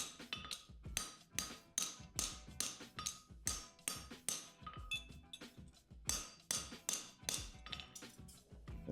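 A hammer taps an aluminium heart bar flat in a steady, rhythmic series of sharp metallic strikes, about two per second. The strikes are close and clear, ringing briefly with no voices.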